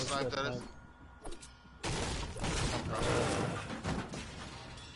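Bursts of gunfire in Fortnite, a few sharp shots early and then a dense, sustained volley mixed with impacts, while players talk over the action.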